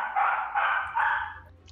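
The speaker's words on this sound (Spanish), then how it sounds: "Gracias al señor perro por participar en este directo." A dog barks three times, close and fairly loud, in a room during a live gameplay stream. The barks come as drawn-out, even bursts and nothing else is heard.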